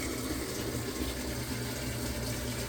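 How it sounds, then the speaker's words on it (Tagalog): Washing machine filling with hot water during a self-clean cycle, a steady, faint rushing and hissing of water flowing in without a break, with no talking. "naririnig natin na naglalagay ng tubig na mainit"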